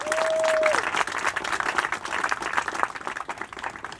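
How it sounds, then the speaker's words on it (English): An audience at a Red Hook West urban farm event gives a warm round of applause, steady clapping from a crowd that gradually thins and softens toward the end. "Let's give them a round of applause for that."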